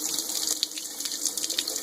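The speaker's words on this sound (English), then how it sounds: "Run the water, get it a little warm" A kitchen faucet runs water into a sink to warm it for softening cold food patties, a continuous close hissing splash with small gurgles, no voices.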